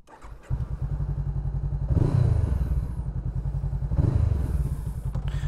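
A motorcycle exhaust picked up by a Sony ECM-CS3 lav mic while riding: a close, throbbing engine starts up, then swells twice in louder revving surges before settling back to a steady beat.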